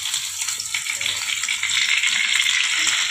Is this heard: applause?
no